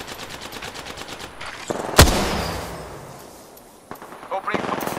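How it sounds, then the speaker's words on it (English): Gunfire in the video game Apex Legends: a rapid burst of shots, then one sharp loud blast that rings out and decays, followed by further scattered shots near the end. "Opening shots fired, and they're hitting me."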